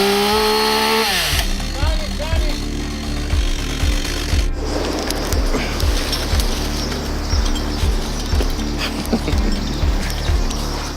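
A saw cuts into a tree overhead with a car parked below, a repetitive back-and-forth rasping stroke pattern, loud and near, while people talk.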